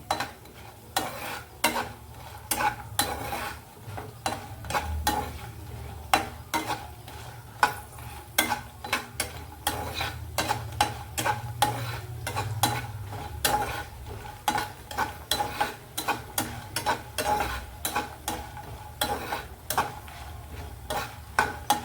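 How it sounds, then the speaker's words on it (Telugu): Sun-dried vadiyalu frying with amaranth leaves in a pan, a steady sizzle under constant rapid clinks and scrapes of a spoon stirring against the metal. "ఈ వడియాలు వేగాక తోటకూర వేసుకుందామండి."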